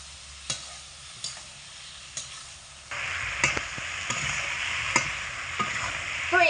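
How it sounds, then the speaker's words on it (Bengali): Potatoes and flat beans with spices are stir-fried in a pan. A few sharp spoon taps sound at first, then a steady sizzle builds partway through, with intermittent clinks and scrapes of stirring, close and moderately loud, and no talking. "ভেজে রাখা আলু আর শিম দিয়ে ভালো করে একটু কষিয়ে নেব"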